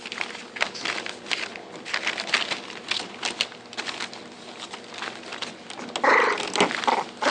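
Bully breed puppies play-fight together, producing steady scuffling, soft growls and yips up close, with patter of paws and a louder burst of growling near the end.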